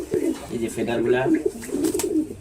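A Jacobin pigeon on a pigeon farm coos in low, throaty, repeated rolling calls, close by and steady across the moment, with faint indistinct voices in the background.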